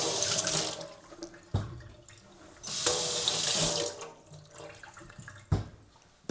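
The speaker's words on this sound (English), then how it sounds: "Remember to wash your vegetables." Kitchen sink tap running while vegetables are washed under it, a steady close gush of water that swells and drops as the vegetables move through the stream, with occasional knocks against the sink.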